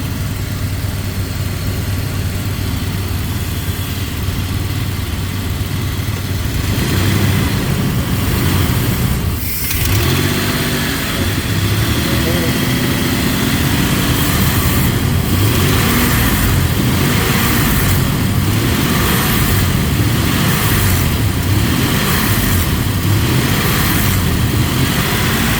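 Engine of a 1998 Dodge Dakota during a MAP sensor replacement, running loud and close with a rough, uneven roar that swells as the throttle opens and keeps going for the whole stretch, no talking.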